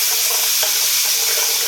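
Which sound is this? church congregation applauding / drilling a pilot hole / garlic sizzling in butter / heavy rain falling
garlic sizzling in butter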